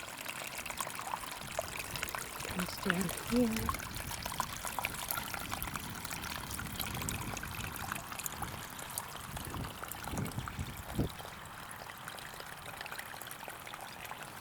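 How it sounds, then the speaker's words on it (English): Water trickles and splashes down a small waterfall along a creek in the Australian countryside, a continuous close-up patter, with a brief spoken remark partway through. "It's like a little mini waterfall."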